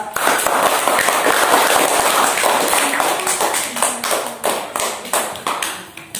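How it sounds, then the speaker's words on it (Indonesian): Schoolchildren in a classroom clap their hands together in a dense, steady round of applause that thins into separate, rhythmic claps toward the end, loud and close throughout. "anak bapak silakan tepuk tangan"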